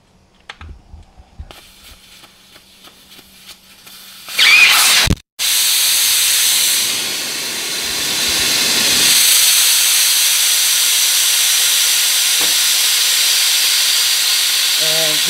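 Air hissing out of a tire after the valve stem is removed during tire mounting, a sudden loud steady rush that carries on for about ten seconds after some tool clicks and handling noises.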